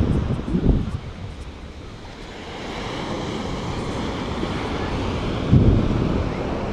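Surf washes steadily onto a beach at Point Dume, with wind buffeting the microphone and gusty surges near the start and again toward the end.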